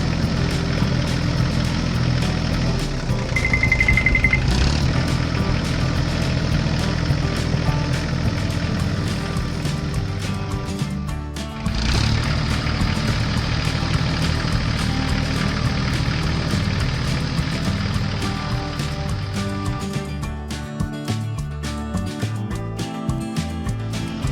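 A yellow tractor with a large trailer idles near a hilly gravel pit in a farming game. Its engine gives a steady, close, low rumble throughout, with a brief dip midway and no speech.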